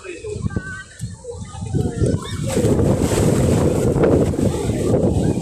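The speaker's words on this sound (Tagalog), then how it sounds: "Napakalakas na ng alon talaga." Strong sea waves slap against a small boat, with a rising, rushing roar of water and gusty wind buffeting the microphone, and voices talking over it early on.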